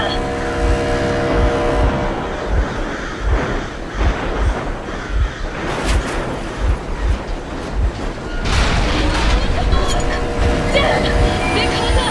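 A vehicle engine runs steadily in the Metro Exodus video game, a continuous loud rumble with rattling, clattering mechanical noise, the pitch and intensity shifting slightly throughout and louder toward the end.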